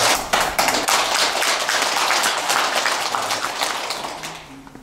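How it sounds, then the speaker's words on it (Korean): An audience at a Buddhist dharma gathering applauds to welcome a monk, loud sustained clapping from many hands that gradually thins and fades toward the end. "불자 여러분께서는 큰 박수로 스님을 환영해 주시기 바랍니다"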